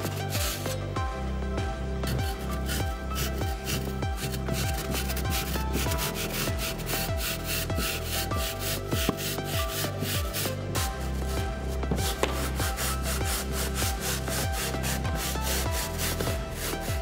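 A hand woodworking saw cutting slowly along marked lines, making a steady rhythmic rasp of back-and-forth strokes. It is close and continuous, with no talking.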